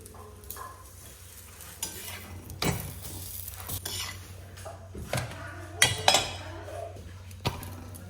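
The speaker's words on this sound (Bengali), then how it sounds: "একদম কম কম তেল দিয়ে করছি পরোটা" Paratha frying in a small amount of oil in a pan, a soft steady sizzle broken by intermittent scraping, stirring and utensil clinks, close and fairly quiet with no talking.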